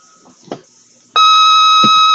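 A quiz show contestant's buzzer sounds, a sudden loud, steady electronic tone lasting about a second after a short spoken question, with a brief voice breaking in near the end.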